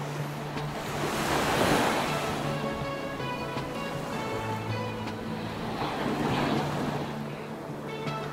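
Autumn waves roll onto a rocky beach in Northern Michigan, a loud, continuous surf roar that swells and eases, mixed with gusty wind rumbling on the microphone.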